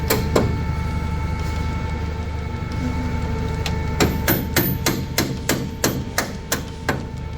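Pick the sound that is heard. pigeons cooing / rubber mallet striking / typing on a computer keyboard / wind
rubber mallet striking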